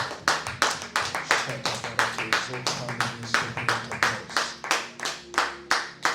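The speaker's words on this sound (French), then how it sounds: "Applaudis pour le Seigneur." A church congregation at a Saturday prayer and prophecy service claps in a steady, strong unison beat, about three claps per second, loud and close, with some voices beneath.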